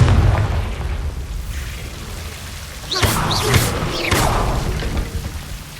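Confringo fire spell bursting in Hogwarts Legacy, a loud blast around the midpoint followed by a second crackling burst over a steady rumbling game backdrop.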